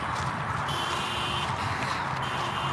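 A parked car's alarm blares steadily and loudly outside, its piercing electronic tone holding for the whole stretch while footsteps and movement carry underneath.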